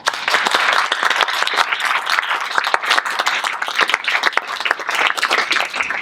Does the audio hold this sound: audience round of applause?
yes